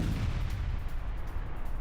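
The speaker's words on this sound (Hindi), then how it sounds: "माइंस क्लियर करते वक्त विस्फोट" A landmine explodes during mine clearing in wartime, heard as a dense, sustained roar of blast noise with a heavy low-end rumble, loud and unbroken, with no voices present.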